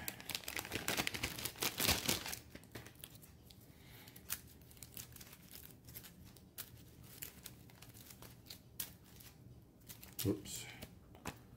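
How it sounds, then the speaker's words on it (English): Escort reaction cards for a board game are shuffled by hand, a rapid papery riffle at the start followed by scattered soft card clicks and rustles, while someone speaks quietly. "I'm accidentally shuffling the escort reaction cards in with them too."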